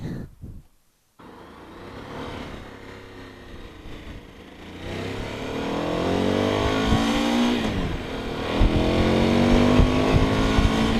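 A 2018 Suzuki V-Strom 1000XT motorcycle accelerates hard, its pitch climbing through rising gear sweeps, loud and close, with a brief dropout near the start.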